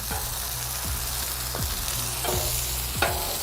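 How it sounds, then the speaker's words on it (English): Onions sizzle steadily while being sautéed on a hot surface, a dense close frying hiss with a few light scrapes of a spatula, no voices. "Them onions are sauteed"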